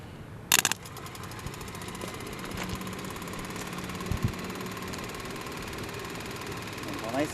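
A small electric motor running on 12-volt batteries whirs steadily with a mechanical hum and faint rattling, interrupted by a brief clatter near the start.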